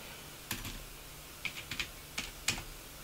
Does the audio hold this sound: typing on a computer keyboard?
yes